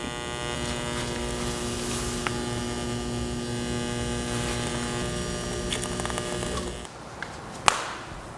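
A welder hums steadily while welding a screamer exhaust pipe for a junkyard Honda CB750F, its output varied by a foot pedal. The even electrical drone holds close and loud, then cuts off near the end, leaving a few light knocks.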